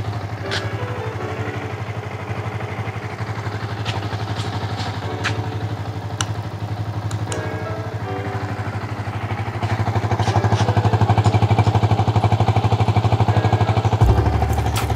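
A Yamaha Vixion motorcycle engine idles steadily with a rhythmic mechanical clatter, getting slightly louder partway through, with a few faint clicks on top.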